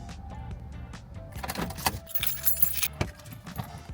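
A bunch of car keys jingles and clinks in quick metallic bursts close by, with a few sharp handling knocks in between and no talking.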